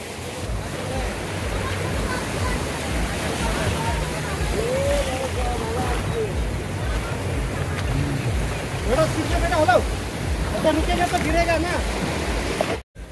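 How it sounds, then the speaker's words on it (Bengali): Big ocean waves churn around a parasailing boat heading out at sea off North Goa near Baga Beach, a steady, loud broadband wash of water and wind with the boat's motion throughout, while voices talk over it. "ঢেউগুলো ঢেউগুলো বড় বড় ঢেউ আসছে"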